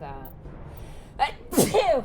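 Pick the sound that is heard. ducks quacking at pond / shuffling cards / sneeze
sneeze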